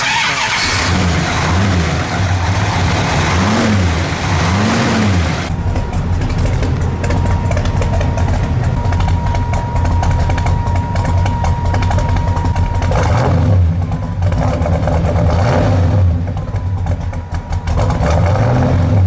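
A 1970 Chevrolet Chevelle SS 454 muscle car engine revs up loudly in several rising and falling bursts over a deep rumbling idle, close and without talk.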